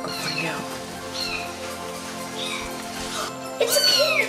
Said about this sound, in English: It's a kid! It's a kitty cat!